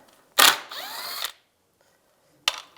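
A power ratchet drives a T30 socket, backing screws out of a 1999-2005 Volkswagen Jetta's front end during A/C condenser replacement: a short close burst of whirring, then after a pause a single sharp click.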